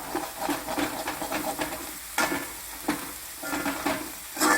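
Bitter gourd fries in coconut oil while a spoon stirs it around the pan, giving a loud steady sizzle broken by repeated scraping strokes, with no voices.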